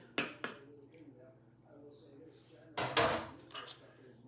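Cinnamon and brown sugar being mixed into melted butter in a bowl, with a spoon clinking and scraping against the bowl in two short bursts separated by a quieter pause.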